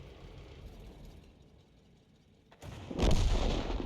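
Enemy artillery fire in a tank battle game: rumbling engine ambience, then a sudden heavy boom that swells into a loud, sustained blast and rumble.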